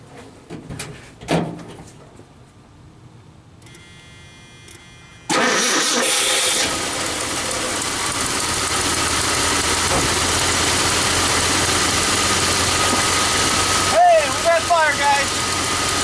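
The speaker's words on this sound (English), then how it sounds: "Getting an old truck started in 10 years." A 1976 Ford F-250 truck, not run in ten years, cranks briefly after some clicks and a door, then its engine catches and settles into a steady, loud idle, with people talking over it.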